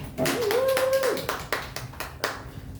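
Audience members at a speaking club meeting clap their hands in a loose, uneven series of sharp claps that thin out over a few seconds, with a brief voice sounding near the start.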